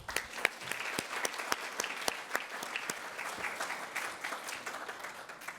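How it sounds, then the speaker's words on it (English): An audience applauds at a university distinguished lecture event, a moderate crowd whose individual claps stand out crisply, fairly loud at first and thinning slightly toward the end. "Let's give us a round of applause too."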